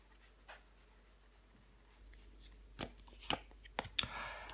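Tarot cards are shuffled and laid down, starting very quiet and building to a cluster of crisp card snaps and slaps near the end, close up with no talking.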